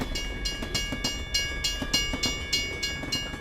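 A train rolling past a level crossing, with rhythmic clickety-clack of wheels over rail joints repeating steadily at close range and a constant tonal hum beneath.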